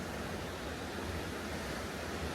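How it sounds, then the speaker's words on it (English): A waterfall in Madeira, Portugal gives a steady, dense hiss of falling water, continuous and fairly soft, with no voices over it. "look at this waterfall."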